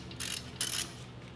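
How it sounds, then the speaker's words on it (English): A hand ratchet clicks in two quick bursts while loosening a 10 mm bolt holding the brake line on a Tesla Model 3, close and crisp. "I'm gonna loosen this 10 millimeter that's holding our brake line"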